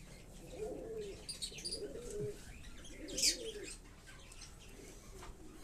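Fantail and flying pigeons in a loft, giving soft low repeated coos with a few higher chirps and a brief flutter of wings, quiet and close.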